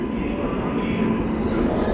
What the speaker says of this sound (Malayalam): പ്ലാറ്റ്ഫോം നമ്പർ 4 പ്ലാറ്റ്ഫോം നമ്പർ 3 ഏതോ ഒരു ട്രെയിൻ കയറി വരുന്നത്.